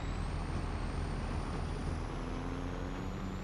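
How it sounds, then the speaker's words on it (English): Truck in the Farming Simulator video game, fitted with dual exhaust stacks run through the bed, giving a steady loud engine drone with a hissing air-brake-like texture throughout, alone without talk. "I like the sound of this truck."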